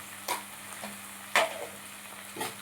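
Onions frying in a pan give soft sizzling with a few short bursts of scraping or stirring, set against a steady low hum, close and fairly quiet.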